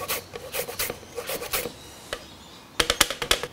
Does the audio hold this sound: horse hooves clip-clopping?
no